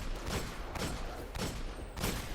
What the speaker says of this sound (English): That is some awesome shooting by you, Porky.